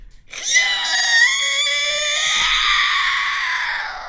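A person lets out a long, high, strained screech that holds steady for several seconds, imitating a creature's shriek.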